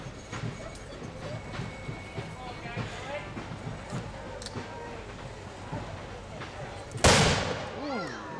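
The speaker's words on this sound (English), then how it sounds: "That was a mortar blast, huh?" A single sharp, loud mortar blast booms out over the ambient crowd and street noise of a Burlington Fourth of July parade, followed by a short ringing decay.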